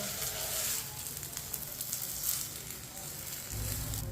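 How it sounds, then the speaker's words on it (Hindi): A paratha cooks in a pan and is turned over so both sides brown, giving a steady, soft sizzle that runs throughout with no talking. "अब इसे घुमाते फिराते दोनों साइडों से पका लेना है।"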